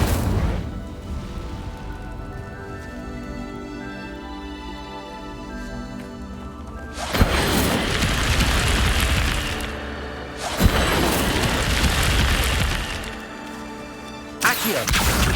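An Incendio fire spell cast in Hogwarts Legacy, heard as a sudden loud whooshing burst that roars for a few seconds, breaks off, then flares again, followed by a third short blast after a sustained musical tone.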